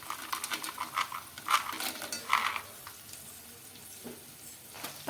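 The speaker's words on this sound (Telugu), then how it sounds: "పల్లీలు ఇలా వేయించుకోవాలి." Peanuts frying in a pan for upma give a faint, crackly sizzle, with a few small clinks and pops in the first seconds before settling to a quieter hiss.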